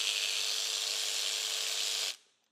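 A power tool whirs steadily at a high pitch for about two seconds while the timing belt cog pulley comes off a Subaru EJ205 engine, then spins down and stops.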